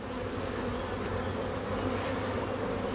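Honeybees drone steadily around an open hive during a Demaree swarm-control inspection, a dense, continuous buzz close to the ear that holds level without pause for the whole stretch.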